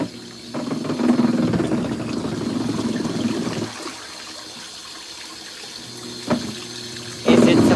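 An LG ThinQ MEGA Ultimate washer fills with water, a steady rushing flow that drops to a quieter hiss partway through, with a sharp knock near the end and louder water surging back in.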